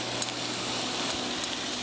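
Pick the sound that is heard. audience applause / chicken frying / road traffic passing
chicken frying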